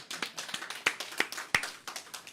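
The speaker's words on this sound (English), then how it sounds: "Charles, yes, you can clap for that." Scattered, uneven clapping from a small audience at a Chinatown community health center event, with irregular sharp claps close by and no talking.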